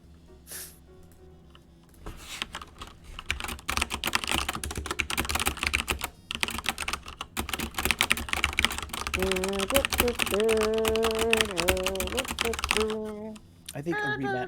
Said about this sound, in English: Loud typing. Loud typing.